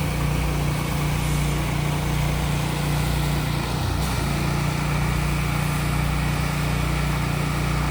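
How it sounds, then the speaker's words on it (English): Pressure washer running steadily while cleaning teak wood siding outdoors, a loud constant motor hum and spray hiss with little change throughout. "the best way to do it is with power washing"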